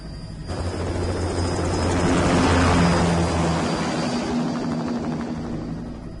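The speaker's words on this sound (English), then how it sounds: "Commencing takeoff in semi-auto mode." An aircraft engine thrums with a steady low drone and a high whine as the craft takes off in the Metal Gear Rising: Revengeance video game, the sound swelling then holding loud throughout.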